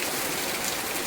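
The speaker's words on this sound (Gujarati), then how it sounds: "હજી વરસાદ શરૂ છે. જો કેવો વરસાદ એ." Heavy rain pours down in a Gujarati village, a dense, even hiss of drops striking surfaces that holds steady throughout, close and without voices.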